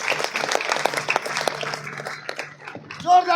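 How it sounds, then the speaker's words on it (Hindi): An audience at a political gathering claps in a dense, fairly close burst that fades out, with a voice speaking at the end. "तो एक बार जोरदार तालियां बजाइए इनके लिए।"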